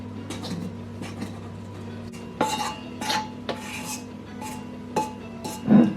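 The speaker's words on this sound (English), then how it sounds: "When you stir it, it does sound a bit like fizzly" A utensil scrapes and clinks against a bowl while stirring Swiss roll cake batter in irregular strokes, soft fizzy stirring sounds close by over a low steady hum.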